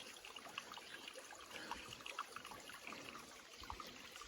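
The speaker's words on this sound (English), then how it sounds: "big overhang on this rock right here. Nice little waterfall." A small waterfall spills beneath a rock overhang on the Appalachian Trail, giving a faint, steady trickle and splash of water with no voices.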